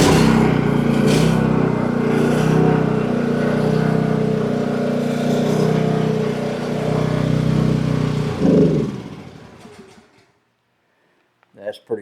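The small engine of an emergency generator starts with the choke on and runs as a loud, close, steady rumble for about eight seconds, then dies away into quiet, with speech over it.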